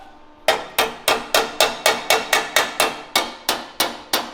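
A hammer strikes metal on a 1932 Ford coupe go kart barn find, about a dozen sharp ringing blows in a quick, steady rhythm, loud and close with no voices.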